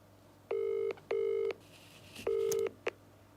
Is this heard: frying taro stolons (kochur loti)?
no